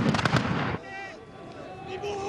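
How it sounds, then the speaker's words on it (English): Gunpowder blasts from a Battle of Leipzig 1813 reenactment, heard as a rapid cluster of loud, near bangs that fade into a quieter echoing tail with a voice speaking over it. "The explosions here look real enough, but no bullets or cannonballs are fired."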